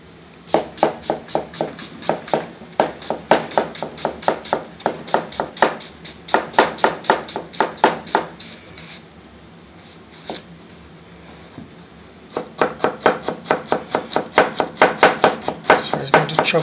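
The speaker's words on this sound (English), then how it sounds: "So he's going to chop the onion, finely chop them into small pieces." A chef finely chops red and white onions with a knife on a cutting board, making rapid, steady bursts of sharp taps with a brief pause in the middle.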